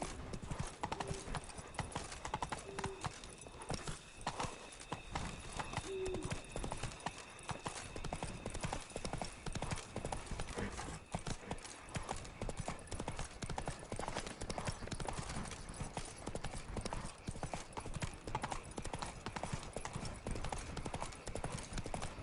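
Horse hooves gallop in The Witcher 3, a rapid, steady clip-clop rhythm at moderate distance that continues throughout, with an occasional brief whinny and faint background sound.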